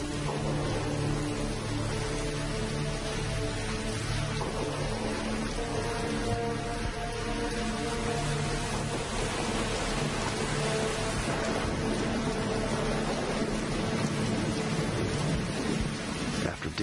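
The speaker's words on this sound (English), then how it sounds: "It is deep, soaking rain." Heavy, soaking rain pours down steadily on the Mala Mala bushveld in South Africa, a dense, loud hiss with a low rumble of thunder beneath it, continuous and without any speech.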